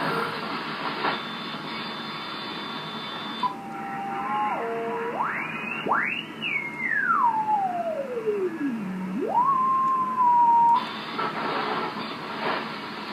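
Radio tones on an open amateur radio band: a steady tone that bends and slides in pitch, sweeping up and falling back over several seconds, with buzzy band noise before and after, loud and without speech.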